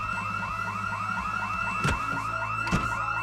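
A school alarm in Project Zomboid rings out steadily, a repeating electronic siren-like tone with regular sweeping pulses, constant and moderately loud, with two brief thuds breaking through midway.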